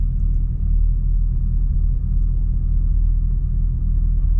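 Chevrolet Corvette C6 engine idling, a steady low rumble held close and even for a few seconds with no talking.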